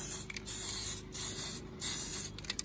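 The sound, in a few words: spray painting coats onto a 5T body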